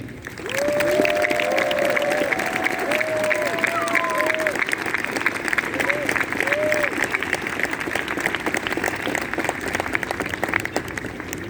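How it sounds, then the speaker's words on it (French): A ceremony audience applauds engineering students at a Sainte Barbe event in Saint-Étienne, giving sustained, dense clapping that fills the hall steadily while a voice speaks over it. "Je vous invite à applaudir très fort la délégation des élèves ingénieurs présents ce soir en grande tenue d'ingénieur civil."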